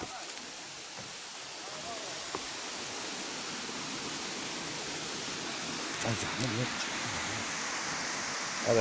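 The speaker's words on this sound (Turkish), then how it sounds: "Evet, gördüğünüz gibi şelalemiz." A roughly 35-metre waterfall pouring over rock makes a steady broadband roar from start to finish, loud and close, with a slight surge near the end.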